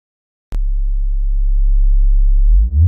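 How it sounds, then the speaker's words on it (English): A pure sine tone from a VCV modular synthesizer starts abruptly, holds a steady low pitch, loud and alone, then bends upward near the end. "This is a sine wave."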